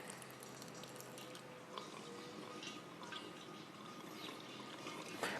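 Red ale beer pours steadily through a funnel fitted with a small filter screen into a carboy, a soft continuous trickle and splash with light drips, fairly quiet and with no voices.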